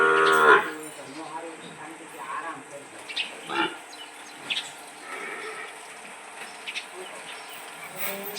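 Cattle being taken out to graze by cowherds, with one clear close moo at the start, then an outdoor rural scene with faint animal calls, insects and distant voices.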